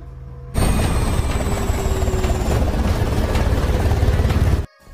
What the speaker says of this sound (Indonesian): ternyata senjata yang dibilang oleh Jenny adalah sebuah drone yang akan menembakkan rudal ke tempat Kester